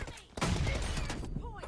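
Rapid bursts of gunfire in the video game Free Fire, a dense volley of shots starting abruptly and continuing loudly, with a voice briefly audible at the end.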